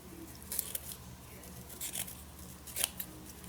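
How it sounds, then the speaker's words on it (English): Quiet snips of scissors cutting a piece of coffee-dyed lace, a few soft crisp cuts close by over low background hiss. "I'm going to cut a piece of lace"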